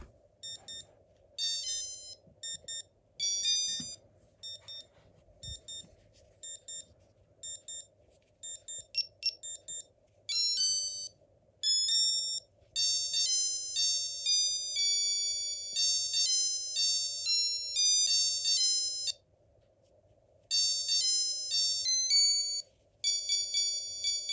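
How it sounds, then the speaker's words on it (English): A Casio digital watch alarm goes off in rapid bursts of shrill high-pitched beeps, first in short clustered groups, then in longer continuous runs with brief gaps, close and clear with no talk. "Another alarm's going off."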